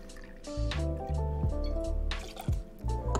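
Brandy being poured into a glass for a coffee cocktail, close gurgling and glugging liquid in short uneven bursts with bright dripping splashes between them.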